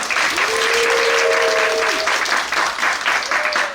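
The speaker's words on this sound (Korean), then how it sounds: "다시 한번 뜨거운 박수 부탁드리겠습니다" A live audience at a Korean talk show during a 2019 Miss Maxim showcase applauds in a loud, sustained burst, with a brief tonal sound passing through and faint voices underneath.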